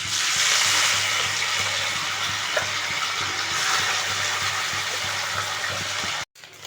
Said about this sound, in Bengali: তেল গরম হয়ে গেছে মাছগুলো দিয়ে দিচ্ছি